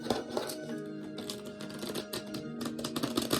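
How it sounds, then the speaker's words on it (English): Tarot cards being shuffled up close, a quick run of soft riffling clicks and slaps with no talking. "Let's give it a good shuffle."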